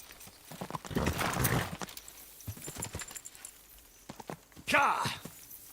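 Clopping horse hooves in quick bursts in the video game Kingdom Come: Deliverance II, then a loud horse whinny near the end; a voice speaks intermittently in between.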